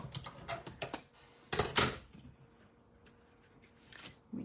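Card passing through a cut and emboss die-cutting machine for Stampin' Up! papercraft: a cluster of sharp clicks and rattling handling noises, then a faint low mechanical hum with a few soft taps, close by and fairly quiet.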